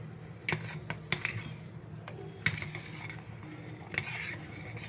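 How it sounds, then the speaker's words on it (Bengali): Semai being stirred in a pot right after milk powder goes in, irregular scraping and clinking of a spoon against the pot with soft sizzling underneath, close and moderately quiet, no talking. "দেওয়ার সাথে সাথে এটাকে নেড়ে দিতে হবে"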